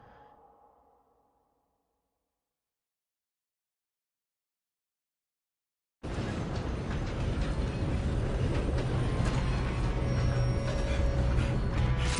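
A train moving in a video game, a loud continuous rumbling and clattering roar that starts abruptly after a few seconds of near silence and carries on steadily, following a faint breathy sound at the start.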